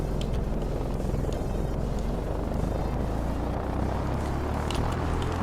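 Propeller plane in the factory-building video game Manufactio drones with a steady, loud engine roar and rumble that runs unbroken from start to finish, with no voices.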